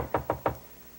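Three quick, evenly spaced knocks on a hotel room door, moderately loud and close, followed by a quiet room with no talking.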